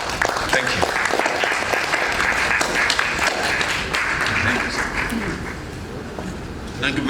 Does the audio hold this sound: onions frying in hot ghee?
no